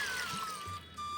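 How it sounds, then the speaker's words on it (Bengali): Two cups of water poured into a pressure-cooker pot for boiling raw banana, a steady, soft trickling splash lasting about a second with no voices. "2 কাপ জল দিয়ে দিচ্ছি।"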